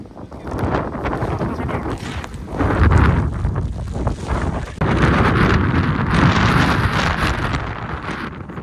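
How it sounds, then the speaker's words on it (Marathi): Strong monsoon wind sweeps across the hilltop of Lohagad Fort, roaring and buffeting the microphone in loud, surging gusts that barely let up. "वारं प्रचंड आहे"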